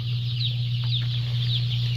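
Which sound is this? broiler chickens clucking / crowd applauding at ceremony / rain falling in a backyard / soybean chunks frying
broiler chickens clucking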